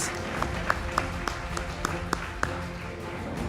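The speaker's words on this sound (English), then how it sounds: "Can we please have a big round of applause to the entire group of NRF researchers who've been awarded here tonight." An audience applauds NRF researchers at a university Vice-Chancellor's distinguished awards ceremony. The steady clapping runs under a constant hum of room noise and music, with occasional louder individual claps standing out.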